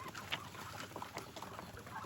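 Farm poultry flock of geese, turkeys and ducks calling together at a moderate distance, a busy stream of clucks and honks over steady outdoor background noise.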